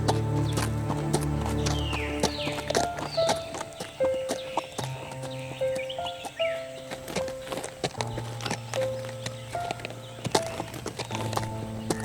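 Cartoon horses clip-clop along at a steady walking pace, the hoofbeats sitting under a busy bed of animated background music, with an occasional whinny-like flourish.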